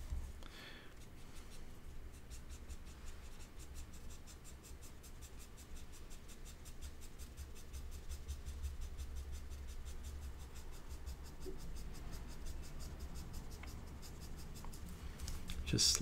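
Graphite pencil blending a dog portrait on paper, a soft continuous rhythmic scratching and rubbing texture running steadily through the clip, quiet and close.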